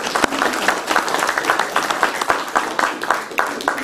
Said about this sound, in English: A little round of applause for Robin.